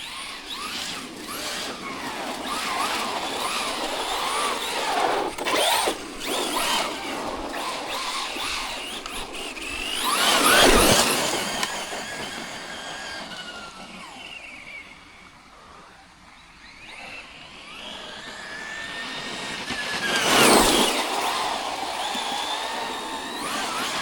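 Traxxas Rustler 4x4 Ultimate RC car driving and drifting into a corner, a steady whining electric motor with two louder surges as it speeds past close by, fading between passes.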